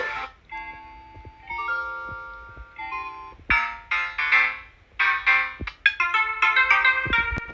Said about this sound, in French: Les sonneries.